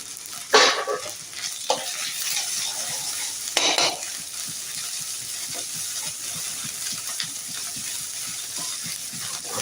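Garlic paste fries in a pan for a cauliflower paratha filling. Two sharp bursts of sizzle and stirring stand out early, then give way to a steady, quieter frying hiss with light scraping.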